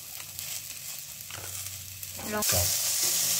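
Broccoli with tomato, green chilli, ground spices, salt and turmeric stir-frying over a low flame, a steady close sizzle with scraping stirs of a spatula that swells louder near the end.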